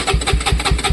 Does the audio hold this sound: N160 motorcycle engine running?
yes